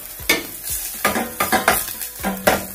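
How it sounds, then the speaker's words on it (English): Onion frying in a pan for a quick breakfast with shrimp, close and loud, with repeated bursts of spoon stirring and scraping over a crackling sizzle, no voices. "Then we'll put a little"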